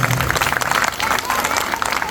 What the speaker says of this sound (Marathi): टाळ्या का आवाज येणार की